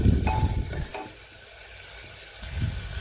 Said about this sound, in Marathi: मीडियम गॅसवर आपण कांदा भाजत आहोत पहा कांदा आपला भाजत आलेला आहे